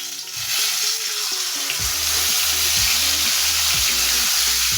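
Fish shallow frying in hot oil, a loud close continuous sizzle and crackle with low tonal sounds humming underneath.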